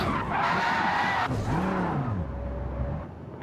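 Video game cars skid with a long, loud tire screech while engines whine and pitch sweeps up and down, followed by a steadier engine drone that fades out at the end.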